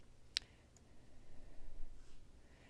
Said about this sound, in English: I'm going to click on Wikipedia.